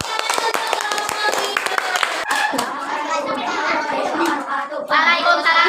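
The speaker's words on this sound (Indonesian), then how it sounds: "Tepuk tangan untuk kelompok" Students in a classroom clap for a group during an Islamic religious education lesson, a few seconds of quick irregular hand claps mixed with children's voices and chatter.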